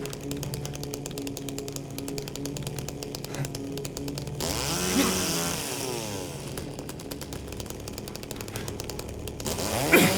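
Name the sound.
chainsaw running in the video game Silent Hill 2 Remake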